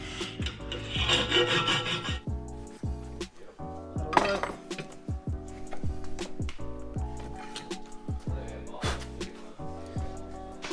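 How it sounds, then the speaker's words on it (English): A part being sanded by hand during a turbo engine install in an R33 Skyline, with a steady rasping rub heard up close, accompanied by faint clinks and a bright tonal backdrop throughout. "we can just slightly sand this out and do that. So that's what I'm doing now"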